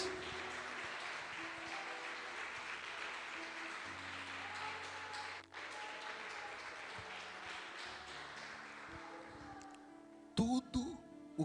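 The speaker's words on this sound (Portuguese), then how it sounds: "aplauda o nome de Jesus, igreja" Church congregation applauding during worship, a sustained fairly faint wash of clapping with some musical tones underneath, then a few louder sharp sounds near the end.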